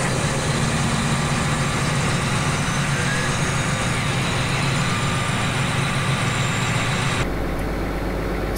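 A John Deere 9560RX tractor engine in Farming Simulator 2015 idles steadily with a low, throbbing rumble, then the tone abruptly shifts near the end as the engine warms up.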